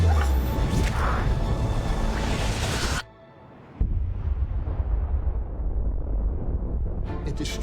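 A powerful, overcharged explosion inside an escape tunnel tears through a prison-camp barrack as a loud, sustained roaring blast. The blast cuts out sharply for a moment, then the rumbling debris and roar return and carry on.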